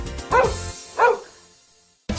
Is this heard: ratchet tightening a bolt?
no